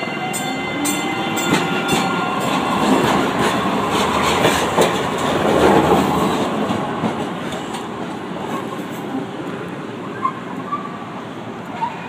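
An MTA Maryland light rail train in Baltimore rumbles past with a steady rolling clatter of wheels, building to its loudest midway and then fading as it moves off.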